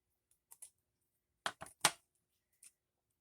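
Scissors snipping through sari silk fabric, a few short crisp cuts in two quick bursts with a faint click at the end, close and fairly quiet in an otherwise silent room.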